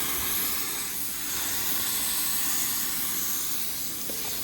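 Automotive spray gun laying clearcoat onto test panels with the fan wide open, a loud, close, unbroken airy hiss that holds steady for several seconds without pause.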